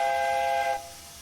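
Train horn or whistle on a Y1 Sentinel locomotive in the TS2022 train simulator game: one steady, clear, multi-tone blast lasting under a second, then cut off, leaving quiet background.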